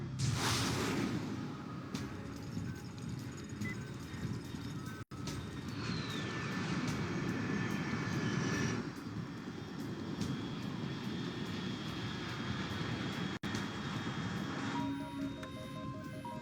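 The engine of a fast aircraft at high altitude in Metal Gear Solid Snake Eater drones steadily for about sixteen seconds, with a passing whoosh partway through and no voices.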